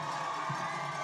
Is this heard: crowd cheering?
yes